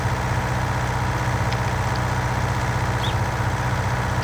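A tractor engine labors steadily in Farming Simulator 2019, a dense, continuous low rumble with a constant throb and no pauses, heard alone and close.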